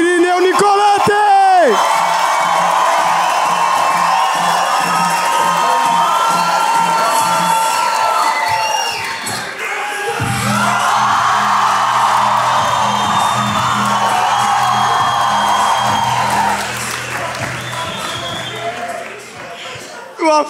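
Audience at a stand-up comedy show cheering, whooping and applauding comedians, a loud, dense crowd roar that swells and stays high throughout, with an announcer's voice carrying over it.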